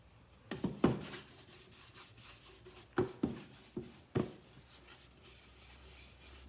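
Clear wax is rubbed onto wooden furniture with a paper towel: several faint, close, scratchy strokes in an irregular rhythm against a quiet background.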